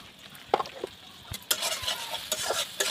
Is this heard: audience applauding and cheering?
no